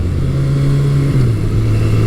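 A carbureted motorcycle engine warms up at a steady throttle, a loud, close, even drone whose pitch dips slightly partway through.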